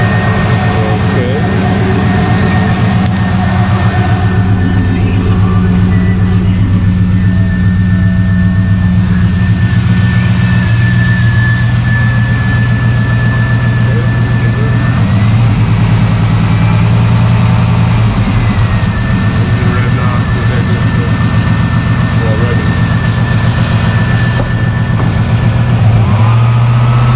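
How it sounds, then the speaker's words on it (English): A car engine runs and revs with electrical loads off during an alternator output test, a steady loud engine drone with pitch rising and falling over nearly half a minute, with a voice over it. "Rev engine with loads off."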